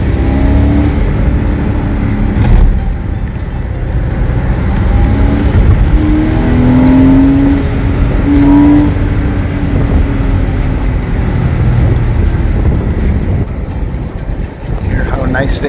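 A modified 2001 Porsche 986 Boxster Gemballa Avalanche driven fast: loud, close engine drone rising and falling in pitch as it accelerates and shifts, with road and wind rumble, and a person talking over it.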